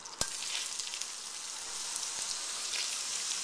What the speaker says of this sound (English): I'm going to add all this to the pan with the butter